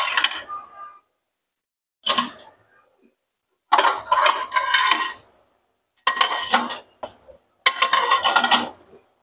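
Washed dishes are lifted and set away in five separate bursts of clattering and clinking, each brief and close, with quiet pauses in between.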